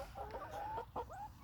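A few larger young chickens, including California Tans, clucking softly in a Florida garden, short separate clucks and warbling calls close by in an otherwise quiet outdoor setting.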